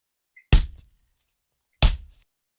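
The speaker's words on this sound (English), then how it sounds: "This is me taking a tree branch and hitting a cantaloupe with it." Two separate whacks of a tree branch against a cantaloupe, each a dull, close, fleshy thump with a slight crack. The blows land about a second apart in an otherwise quiet setting.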